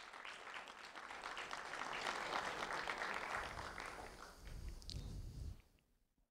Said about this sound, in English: a round of applause for Eva Scribner